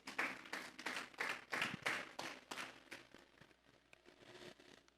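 A church congregation claps together during a Sunday service, a dense burst of loud applause that builds over the first two seconds and then gradually thins and fades.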